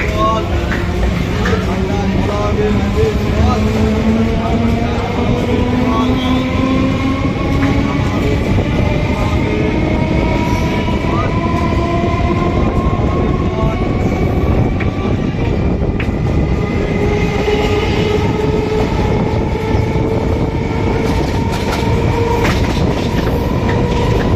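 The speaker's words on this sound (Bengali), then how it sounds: "এই আমাদের ট্রেন ছেড়ে দিল এখন" A train pulls away from a station and runs on the rails, wheels clattering and steady rumble continuous throughout, with rising tonal whine from the motors as it gathers speed; loud and close, no talk over it.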